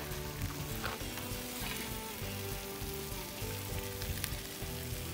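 Veggie burger patties frying in a pan make a loud, continuous sizzle close by, broken now and then by the scrape and clatter of stirring or turning.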